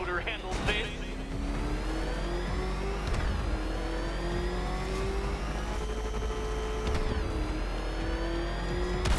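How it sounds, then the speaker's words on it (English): A car engine revs in a Batman video game, the pitch climbing steadily with several upward surges and a sustained loud whine over continuous background noise, with voices and music mixed in. "Can that ramshackle motor handle this?"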